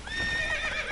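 Roach the horse in The Witcher III gives a short, close neigh, a bright wavering whinny lasting about a second over faint hoof movement.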